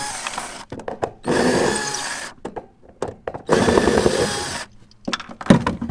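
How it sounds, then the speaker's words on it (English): A power tool removes screws from a computer power supply in three loud whirring bursts, separated by short gaps filled with clicks and handling noises, close up with no speech. "So I'm going to go ahead and I'm going to remove all of these screws."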